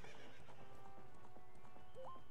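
Hooves clip-clop steadily in The Legend of Zelda: Ocarina of Time, the gallop carrying over game music, with a short neigh near the end.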